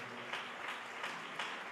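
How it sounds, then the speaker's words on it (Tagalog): A church congregation applauds during a preaching service, a dense wash of many hands clapping with slightly rhythmic surges, steady and moderately loud from start to finish. "Palakpakan po natin ang ating mahal na Panginoon."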